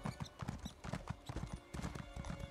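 Rhythmic horse hooves clopping at a steady trot in The Elder Scrolls Online, close and clear, with faint speech in the background.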